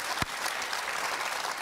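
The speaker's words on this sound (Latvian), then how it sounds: "Ļoti labi, aplausus varētu." A studio audience at a television talk show breaks into applause, a dense, even wash of clapping that holds steady throughout, with one sharp knock near the start.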